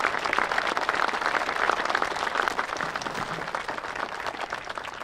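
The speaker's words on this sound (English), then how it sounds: "let's give each of them a round of applause as they stand to be recognized" Audience applause at a building dedication ceremony for Hammond Hall, a dense, continuous patter of many people clapping that holds steady at a moderate level.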